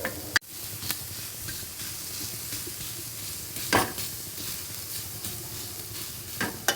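Onion fries in a pan for a Maharashtrian patodi rassa, a close, steady sizzle broken by a few sharp scraping stirs and a metallic knock near the start; no voices.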